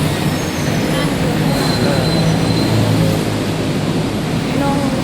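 A BTS Skytrain runs at an elevated station in Bangkok, giving a loud, continuous broadband rumble with faint wheel squeal and metallic tones, close and steady throughout.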